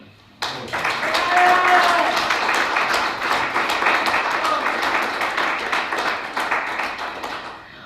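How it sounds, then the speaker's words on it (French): Audience applause fills a political banquet hall, a dense steady patter of many hands starting abruptly and continuing loud throughout, with a voice faintly audible underneath near the start. "Alors, applaudissez-les."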